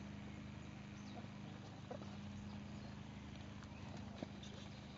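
A horse's hooves clip-clop while it is led and presented at an Upper Bavarian breeders' course in 2010, faint, steady footfalls under a constant low hum and background noise.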